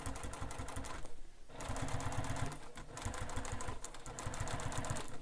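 A sewing machine top stitches a bag in fast, rhythmic bursts of mechanical whirring, stopping briefly between runs and then starting again, close and fairly loud, with no talking.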